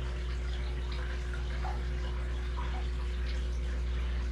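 Water pours steadily from an outlet into a home aquarium holding a bluegill and a green sunfish, a constant close splashing flow with faint bubbling throughout, no voices.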